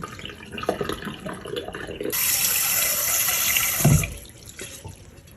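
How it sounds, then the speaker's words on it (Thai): Japanese rice is rinsed in water for the third wash, with quiet swishing and handling followed by a close two-second rush of running water and a splash as it stops. "จะวน แบบว่าวนส่วนกันไปส่วนกันมา อันนี้ล้างประมาณสามน้ำเลยอันนี้น้ำที่สาม"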